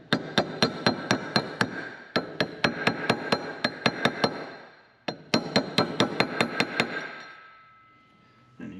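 A grease seal is hammered into place on the secondary clutch of a Wolverine RMAX 1000, with sharp metallic taps in quick bursts of about a dozen blows, separated by short pauses, close and loud.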